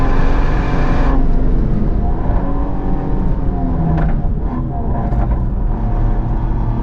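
A BMW M3 Touring in Sport Plus mode with stability control off, driving on the Nürburgring: a loud, steady engine roar and road rumble that holds throughout without pause.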